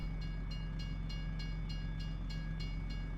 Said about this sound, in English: Train just came out of nowhere.